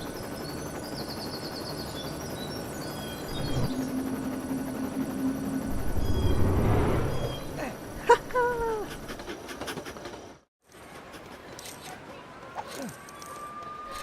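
Helicopter flight in the LEGO City Undercover video game: a steady rotor drone runs throughout, with a dog-like panting and whimper and other game effects rising midway, a brief dropout near the end, then the drone resumes.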